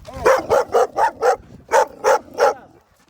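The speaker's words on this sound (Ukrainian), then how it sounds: "Це ж лабрадор, ну то гавкає, бігає." A Labrador barks outdoors in a fast series of eight loud, close woofs: five evenly spaced, a short pause, then three more.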